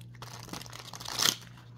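A deck of tarot cards being shuffled by hand makes close, crisp rustling and crackling riffles over a low steady hum, with no speech.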